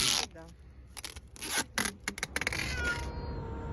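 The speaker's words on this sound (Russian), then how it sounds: "какой добротный кот!" A cat gives a short meow amid rustling, scraping and tearing as it is shifted into a carrier after rescue from a flooded house, with someone speaking softly nearby.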